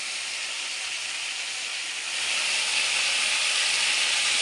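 Mixed vegetables frying in a pan for a Bengali mixed-vegetable curry, a steady loud sizzle with no pauses that swells a little louder halfway through.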